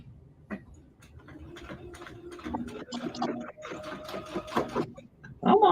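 A Brother SE600 sewing machine stitching quilted placemats, its motor whirring in quick stop-start runs that grow louder, with a voice speaking briefly near the end.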